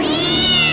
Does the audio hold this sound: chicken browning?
no